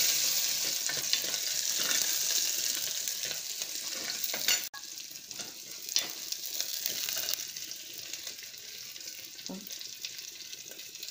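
Cumin seeds and sliced shallots sautéing in a pan while being stirred for brinjal gosthu, a steady close sizzle with scattered scraping clicks and a brief drop partway through.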